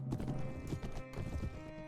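Horse hooves clip-clop in a steady galloping rhythm during a medieval combat bout in Mount & Blade: A Clash of Kings, loud and close, with a whinny mixed in over a dense game soundscape.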